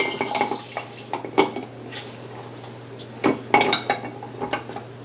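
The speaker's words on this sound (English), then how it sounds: "I flip them over to get more juice out of them." Grilled lemons squeezed and twisted on a seed-catching citrus juicer, giving irregular clicks, clacks and scrapes in short bursts, close up with a steady low hum underneath.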